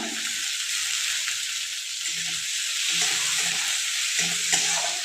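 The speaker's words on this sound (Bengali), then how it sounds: "দিয়ে ভালো করে একটু ভেজে নেব।" Chopped onion, garlic and chillies fry in a pan with a dense, steady sizzle, while occasional soft stirring strokes sound close underneath.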